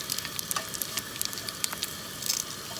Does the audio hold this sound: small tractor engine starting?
no